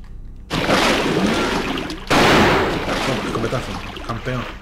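Two heavy shotgun blasts in Alone in the Dark: The New Nightmare, near a frozen fort foundation. Each is a loud, broad burst followed by a long roaring decay, with the second about a second and a half after the first.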